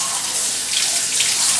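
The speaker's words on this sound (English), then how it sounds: "You're going to run the paper under cold water" Cold tap water runs over and splashes onto a sheet of watercolor paper, a loud, continuous broadband hiss with no pauses.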